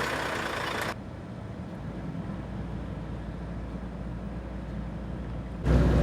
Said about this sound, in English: The truck is driven by a two-man team, Sano, a 30-year veteran, and Clay